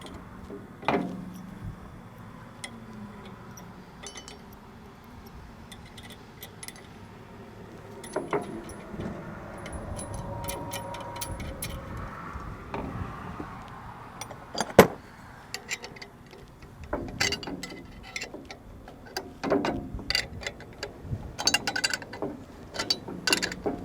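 Hardware is fitted and tightened on a VMAX 1500 blast wheel during a rebuild: scattered metallic clinks, ratchet clicks and tool knocks at close range, irregular and fairly quiet throughout.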